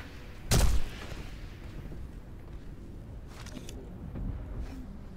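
A single loud gunshot cracks out early in a Sniper Elite 5 match, a short sharp burst that fades into quiet game ambience.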